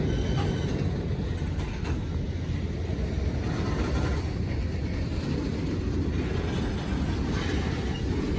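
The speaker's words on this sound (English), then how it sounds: "All right, this one here is moving finally." A CSX freight train rumbles steadily past at close range, heavy low-pitched rolling with faint clanks and wheel noise, continuous throughout.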